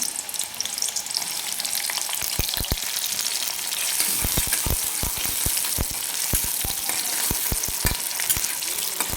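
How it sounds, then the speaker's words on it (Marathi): A steady sizzle of onion frying in hot oil in an iron wok, punctuated by irregular clinks and scrapes of stirring against the metal pan. "एक कांदा कापून घेतलेला आहे तो टाकून घेऊ आपण"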